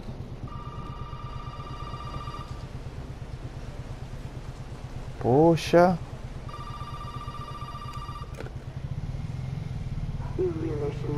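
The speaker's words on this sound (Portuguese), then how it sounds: "O telefone tá tocando." A telephone rings in Resident Evil 7, a harmonic electronic ring in two long bursts with a pause between, over a steady low engine-like drone, while a man briefly exclaims between the rings.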